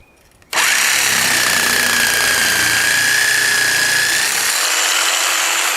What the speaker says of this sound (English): I'm lucky I found the jigsaw.